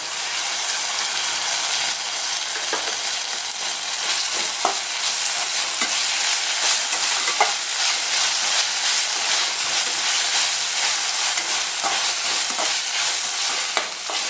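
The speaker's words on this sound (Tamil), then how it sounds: "நம்ம இஞ்சி பூண்டு பேஸ்ட்டையும் சேர்த்துப்போம்" Ginger garlic paste sizzles in a pan for a vegetarian curry kulambu while it is stirred. A loud, steady frying hiss runs throughout, with occasional scraping strokes of the spoon nearby.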